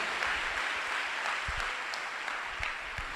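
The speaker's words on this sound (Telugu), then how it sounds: "కొట్టిప్పుడు చప్పట్లు" Church congregation at a sermon clapping steadily, faint and somewhat distant, a soft continuous patter with a few louder individual claps.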